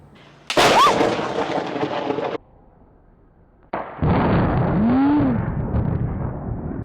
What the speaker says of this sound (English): there was the biggest clap of thunder I've ever heard in my life